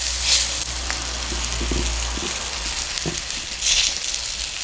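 Onion pancake batter hisses and sizzles steadily as it goes into a hot frying pan, close up, with a few soft scrapes and taps from the pan.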